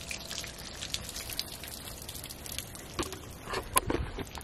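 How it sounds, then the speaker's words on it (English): Water dripping from melting snow, scattered irregular drops and light splashes, fairly close and soft, growing busier toward the end over a quiet background. "Just the snow melting."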